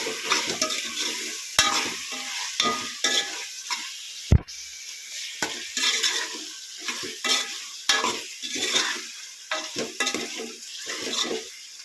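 Gravy sizzles and fries in hot oil while a spoon stirs it in a pan, with scraping strokes repeating throughout and steady crackling underneath, close and fairly loud, and no voices.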